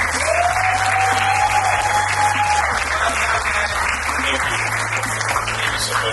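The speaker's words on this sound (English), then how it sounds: "I'm not hearing the claps, guys." Loud, continuous clapping from an audience at a tech competition final, a dense unbroken wash of hands lasting throughout, with a faint tone and low hum beneath.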